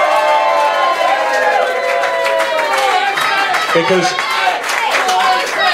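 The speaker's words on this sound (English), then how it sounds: "can we have a round of applause for Boys C?" A pub crowd at a punk gig at the Mulberry Tree in Ipswich applauds and cheers in a loud, continuous wash, with voices over it and a speaking voice briefly on top.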